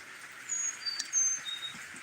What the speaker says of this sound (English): Maybe I should go film some birds. They sound really pretty.